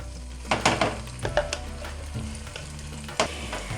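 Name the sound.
roasted tomato paste frying in hot oil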